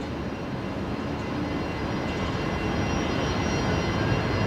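An airplane roars at Brisbane Airport after touchdown, a dense, steady engine rumble that swells slightly toward the end.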